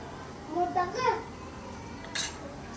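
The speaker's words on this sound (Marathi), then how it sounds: "आणि याच्यावर झाकण देऊन परत ठेवतो शिजायला" A metal lid set onto a pot of prawn and vegetable stalk curry cooking on the stove: a brief bright clink near the end, after a few softer kitchen clatters over a quiet background.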